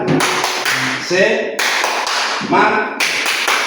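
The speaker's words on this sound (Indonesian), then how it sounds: "Tepuk semangat." A high school class standing in a classroom does a rhythmic spirit clap in short, sharp bursts of group clapping, with students chanting and shouting in between.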